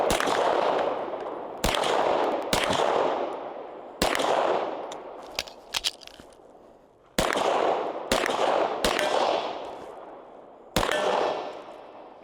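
Pistol and rifle gunfire during dummy round drills: loud, sharp shots at irregular intervals, each ringing out with a long echoing decay, some fired in quick pairs, with no talking.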